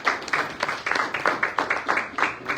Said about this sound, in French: C'est là que je vous demande d'applaudir, s'il vous plaît.